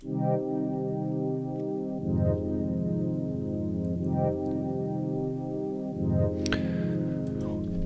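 Sustained synthesized chords shift through a slow progression of rich, mellow minor-seventh harmonies, changing every couple of seconds with a faint bright accent near the end.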